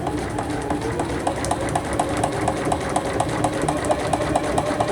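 Juki HZL-F300 sewing machine working slowly through thick layered fabric, a steady low mechanical hum with regular evenly spaced needle ticks, close and continuous for the whole stretch.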